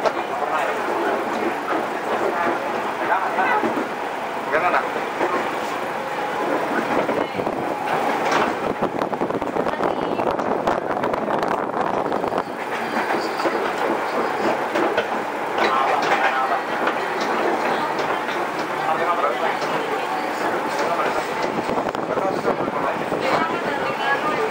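A train rumbles steadily nearby for a long stretch, its rolling clatter constant beneath occasional voices and wind buffeting the microphone.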